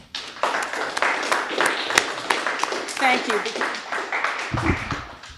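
A few people at a community meeting of the Friends of the Souther Tide Mill clap scattered hands in a small round of applause, partly under a speaking voice that carries over it.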